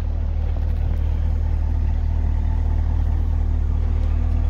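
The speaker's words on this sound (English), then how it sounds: "Real nice note on the exhaust." A 2021 Chevrolet Camaro LT1 with a 455-horsepower V8 idles nearby, its exhaust giving a steady, deep low rumble with a constant hum and no revving or talk.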